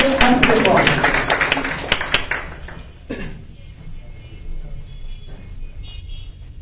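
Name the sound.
students applauding a speaker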